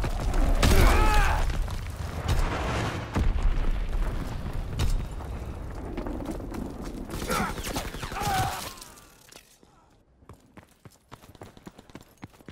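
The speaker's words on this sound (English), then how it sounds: "Incoming enemy artillery!" Enemy artillery shells exploding in a World War II video game: heavy, booming blasts and rumbling impacts with debris, loud and close for most of the moment before fading into quieter scattered sounds.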